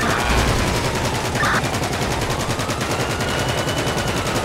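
Minigun fire in GTA 5 roleplay rattles continuously in a dense, loud, rapid stream of shots, close and unbroken throughout.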